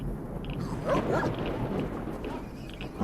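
Dogs barking in the game S.T.A.L.K.E.R.: Shadow of Chernobyl, a few short barks and yips over a steady low rumble of ambient noise, moderately loud and without talk.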